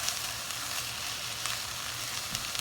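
Sloppy joe mixture sizzles and fries steadily in a hot pan while being stirred, a close, continuous crackling hiss with faint scraping and no talking.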